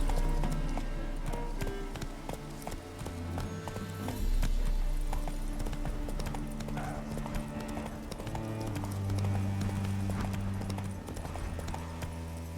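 Roach the horse gallops in The Witcher 3, a steady close clip-clop of hooves running over continuous game music and ambience, with a brief whinny-like cue and no speech.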